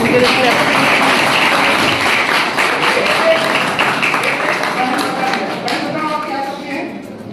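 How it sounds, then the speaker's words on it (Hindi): Lecture hall audience at an entrepreneurship talk bursts into loud, close applause, dense rapid clapping that thins a little as it goes on over about seven seconds, with faint voices mixed in. "एक बार जोरदार तालियां इनको"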